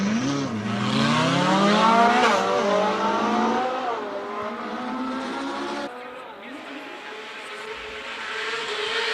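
A front-wheel-drive VW Golf race car with a 2-litre 16-valve turbo engine climbs a hillclimb course at a Cape Town speed event, its engine rising loud and strained through gear changes before easing off slightly toward the end.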